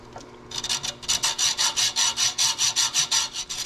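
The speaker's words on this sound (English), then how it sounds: "So we're going to file it off, put some Loctite on it" A metal file rasps back and forth across the cut end of a brake rod on a Honda CRF110 in a workshop, making a dozen or so quick, evenly spaced strokes up close.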